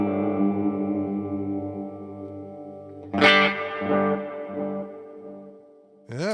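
Electric guitar playing sustained chords through a subtle delay and reverb pedal, with a strummed accent midway that rings out and a fresh strum at the end; loud and close, with no talking.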